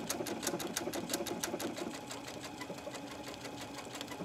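A sewing machine fitted with a denim G needle stitches through silk noil fabric. It gives a fast, steady mechanical chatter, loudest at first and then running evenly and close by on its own.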